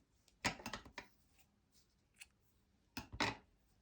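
Two quick bursts of scissors snipping through crochet yarn, each a cluster of short crisp cuts close to the mic, separated by a quiet pause with small handling clicks.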